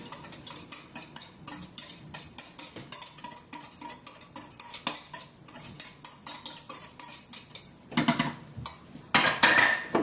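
A quinoa, kale and avocado salad is tossed with dressing in a bowl, giving a steady run of soft clinks, scrapes and stirring knocks of a utensil against the dish, with no one talking.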